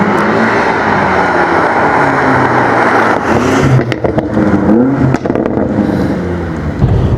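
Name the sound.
BMW M5 petrol V8 car accelerating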